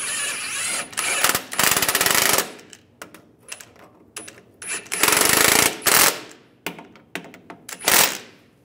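A power impact tool snugs upper shock mount bolts on a 2007-2013 Chevrolet Silverado 1500, firing in several loud rattling bursts of varying length separated by short pauses and lighter clicks, close up with no talking.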